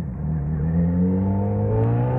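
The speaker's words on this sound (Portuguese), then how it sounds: "Só pra vocês sentirem o torque que a moto dá" A Yamaha XJ6 motorcycle accelerates hard, its engine note climbing steadily in pitch with a smooth, continuous rising whine, close and fairly loud.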